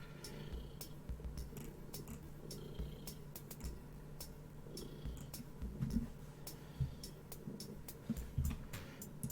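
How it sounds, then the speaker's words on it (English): Cat purring close by in a soft, continuous rhythmic rumble with gentle pulses, faint and steady, with no talking. "Purr."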